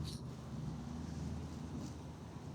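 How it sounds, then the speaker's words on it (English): Outdoor wind buffets the microphone in a steady low rumble with gusty fluctuations, moderately loud and continuous, with no speech. "I'm not able to block the wind though."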